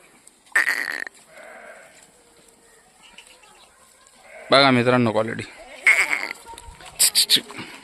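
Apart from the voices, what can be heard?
Kathiawadi goats bleating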